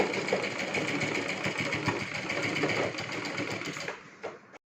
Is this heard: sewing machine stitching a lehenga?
yes